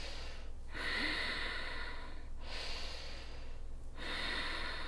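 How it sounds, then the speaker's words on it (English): During a yoga session, close, breathy inhales and exhales come through the nose in a slow rhythm, with about three full breaths and short pauses between them. "Inhale in."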